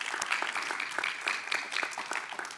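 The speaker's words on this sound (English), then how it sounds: "let's give them a round of applause." An audience at a summer quiz night applauds contest winners called up front, a steady patter of scattered clapping from a moderate-sized crowd, fairly close and sustained.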